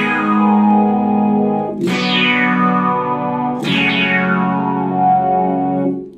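Electric guitar played through an Electro-Harmonix Synth9 synthesizer pedal with its filter engaged: three sustained synth-like chords, each attack opening with a bright filter sweep that slowly closes; loud, close, no voices.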